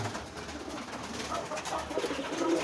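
Soft pigeon cooing murmurs faintly over a steady background hiss, low and continuous, with no one talking.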